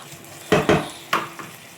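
Chicken seasoned with salt and pepper is sautéed in a pan, with a couple of sharp metallic clanks of a utensil against the pan over a faint sizzle.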